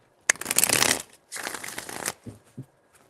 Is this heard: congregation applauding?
no